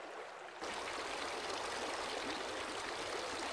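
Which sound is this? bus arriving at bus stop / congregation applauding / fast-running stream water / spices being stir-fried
fast-running stream water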